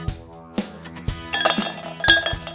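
Ice cubes drop into a glass of punch one after another, several sharp close clinks and knocks with ringing glassy tones, each separated by short pauses.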